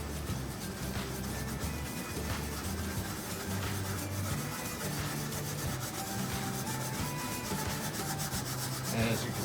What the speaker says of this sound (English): So we're going to go ahead and dip the steel wool in the stripper a little bit